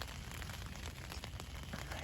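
Rain patters steadily on a tent during a solo overnight camp in the Michigan wilderness, a dense, even hiss with scattered sharper drops, close and continuous with no voices.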